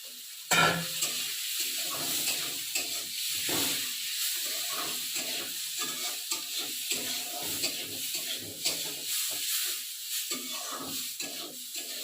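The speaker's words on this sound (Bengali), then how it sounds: "এখন এই কড়াইতে তেল বসিয়ে দিয়েছি, এখন ডালটাকে একটু ভেজে নেব" Mung dal fries in hot oil in a kadai, a steady sizzling hiss with soft stirring scrapes running throughout, close and moderately loud with no talking.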